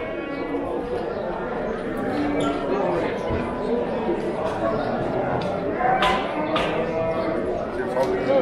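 Bulls and other cattle at a livestock market in Osh low and shift about amid steady crowd chatter and people talking nearby, with an occasional loud moo rising above the busy background.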